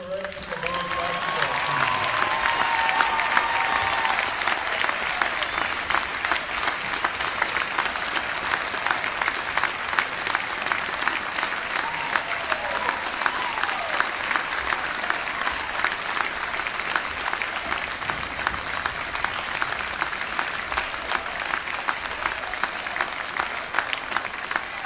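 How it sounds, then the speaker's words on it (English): A high school gym crowd gives sustained applause for the boys' basketball team, at Brillion High School against Shiocton. Dense clapping holds steady for about twenty-five seconds with faint voices mixed in. "Let's give a round of applause to Jimmy Lorenz and the boys' basketball team"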